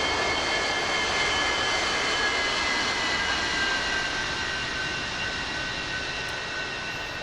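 Su-30 jet aircraft engine in the DCS World combat flight simulator, a steady, loud roar and whine holding constant throughout with no talk.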